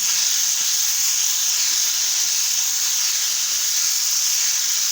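Spiced ripe guava sabzi with turmeric, red chili and coriander powder roasts in a pan, a constant, even hiss of sizzling close up with no pauses and no talk.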